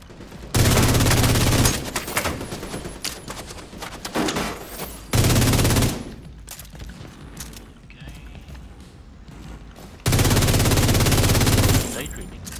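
Loud sustained bursts of automatic gunfire in the video game The Division 2, three long volleys separated by quieter gaps where players chat.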